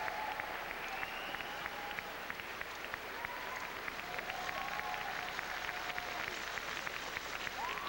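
An arena audience at a figure skating championship applauds steadily throughout, a dense, distant wash of clapping with faint musical tones drifting over it.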